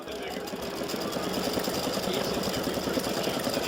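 An embroidery machine satin-stitches the nose of a freestanding-lace gnome heart pendant, giving off a steady, fast, close mechanical chatter of needle strokes that runs unbroken throughout.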